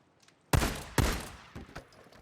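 Three gunshots from the video game Days Gone ring out close and loud, the first two sharp and strong and the third softer, spaced about half a second apart.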